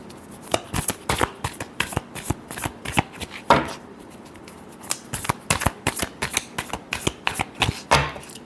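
Tarot cards are shuffled by hand in rapid, crisp riffling bursts, repeating close and clear with short pauses between them, no voices.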